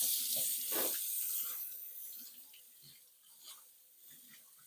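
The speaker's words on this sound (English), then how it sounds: "Let me rinse this off." A cutting board is rinsed under a running kitchen tap, a hissing water flow that is strongest at the start and then thins to a quieter trickle with light knocks, close and alone.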